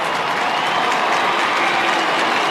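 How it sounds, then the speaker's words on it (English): A large stadium crowd at an Australian football match between Fremantle and Carlton applauds a debuting player, a dense, steady wash of distant clapping and crowd noise without interruption. "the applause is for Carl Warner"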